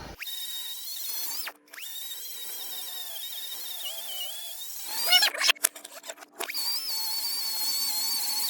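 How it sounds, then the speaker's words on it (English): Air grinder with a 2-inch grinding wheel grinding down welds on an Uzi trunnion, a steady high-pitched whine that dips briefly, then sputters and chatters before returning to a constant whine. "We're just using a 2-inch grinding wheel"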